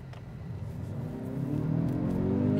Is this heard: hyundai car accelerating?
yes